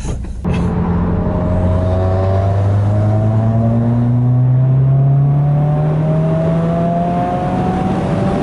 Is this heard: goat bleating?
no